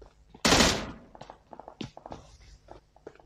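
Gunfire in the mobile game PUBG Mobile: one loud, close shot or burst opens, followed by a series of quieter, sharper shots and clicks spaced irregularly, with no talk.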